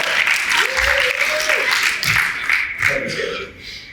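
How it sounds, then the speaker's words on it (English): An audience at an annual member meeting applauds for Melissa, clapping steadily with a few voices calling out over it before it thins toward the end. "I think I'll give a round of applause for"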